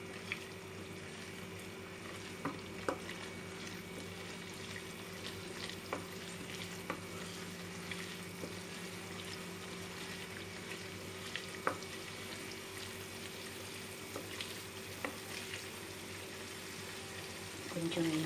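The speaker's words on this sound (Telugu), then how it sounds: "కొంచెం డార్క్ బ్రౌన్ కలర్ వచ్చే వరకు వేయించుకోవాలి." Prawns frying in oil for a spicy Andhra prawn pickle, a soft, continuous sizzle with occasional light stirring clicks and a faint steady hum underneath.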